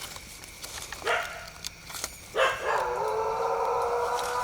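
A dog gives a few short barks and a drawn-out whine or howl, close by, in a quiet room, with no talking.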